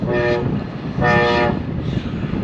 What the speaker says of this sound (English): Speaking of the train, the surf liner, my God, here it is right here.